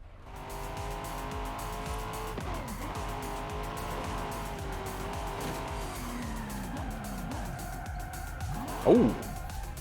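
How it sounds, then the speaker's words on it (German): A race car engine roars continuously in the video game Forza Horizon 5, with rising and falling revs as gears shift and a brief tire squeal near the end. "Also ich finde, das Auto kann durchaus noch lauter."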